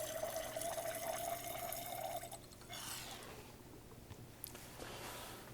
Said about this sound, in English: we're going to be adding water to the last experimental test tube that has not yet been filled